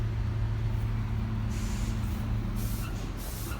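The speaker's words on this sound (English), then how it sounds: "They're doing road construction on the other side of the wall here." Road construction rumbles from the far side of a backyard garden wall as a steady low machine drone with hissing bursts like air brakes; moderately faint and continuous, with no one talking.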